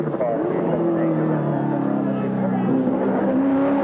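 Peter Brock's V8 Holden Commodore race car worked hard up a mountain circuit, a loud sustained engine roar with shifting pitch, under a commentator's excited voice.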